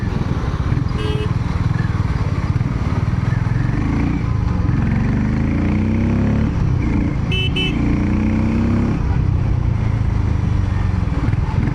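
A Harley-Davidson X440 motorcycle rides along a road, its single-cylinder engine droning loudly up close with rising and falling revs and wind rush, while a horn toots briefly in the traffic around it.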